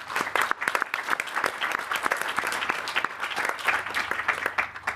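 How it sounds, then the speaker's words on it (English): A conference audience gives a dense, steady round of applause for the organisers at the closing address of the Second RECLAIM Network Plus Conference 2024. The clapping is fairly close and fills the whole five seconds without a break. "So give a big round of applause to them."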